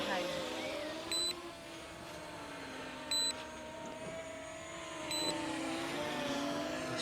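A drone hums steadily overhead while flying back on return-to-home, its whine faint and distant, with a few short electronic beeps recurring at regular intervals.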